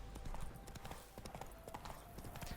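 Horse hooves galloping at speed in The Witcher 3, a steady rapid clip-clop rhythm close by, carrying on without a break under faint background game sound.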